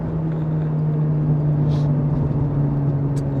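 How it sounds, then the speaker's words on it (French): A Peugeot 206 RC hot hatch on the road, its engine and exhaust giving a steady droning hum with a strong low tone and constant road rumble, heard from inside the car with no talk. "les pots gueulent quand même un petit peu"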